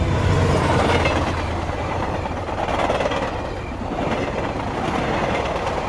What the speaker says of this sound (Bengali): আমাদের সামনে দিয়ে ধোঁয়া উড়িয়ে চলে গেল একটা ট্রেন